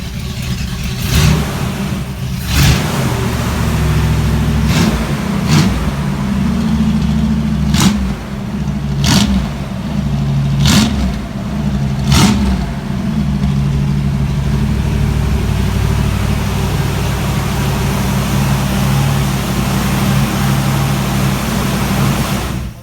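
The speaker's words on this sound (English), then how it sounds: "we're gonna fire up the motor. Hit it, Murphy. Yeah, man. Give it a little gas there" The engine of a 1951 Mercury lead sled sits at a loud, steady, rumbling idle throughout, close up, with a series of sharp clicking or popping transients during the first half.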